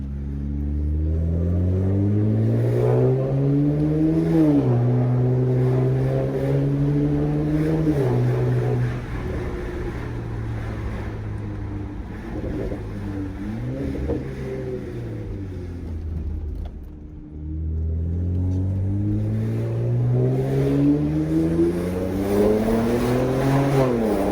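A loud BMW 335i with an N54 engine and muffler delete revs up and down repeatedly in city driving, with a deep, raspy exhaust rumble rising in pitch through each acceleration and dropping between shifts.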